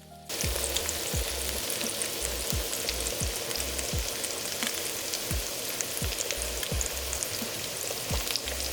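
Steady, loud crackling sizzle of ravioli frying in butter and basil in a pan, continuous and close, with faint low rhythmic thumps underneath and no talking.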